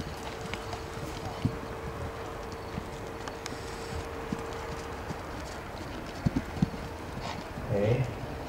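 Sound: horse hooves during show jumping

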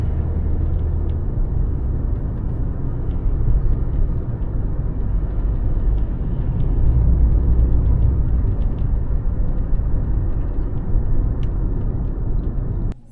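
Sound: Kia K5 taxi car driving

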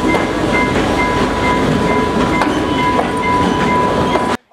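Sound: oil-carrying train departing

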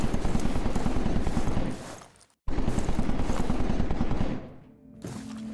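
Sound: gunshots in a video game

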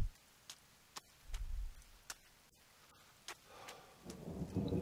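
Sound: thunderstorm with thunder and rain in the video game The Forest

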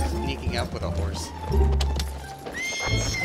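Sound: horse neighing in video game Battlefield 1

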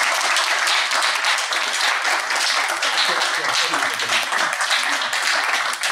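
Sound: audience applause for the panel

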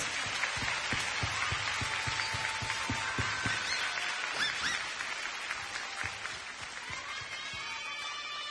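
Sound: applause for the staff

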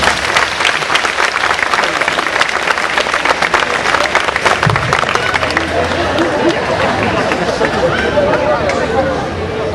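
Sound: audience applause

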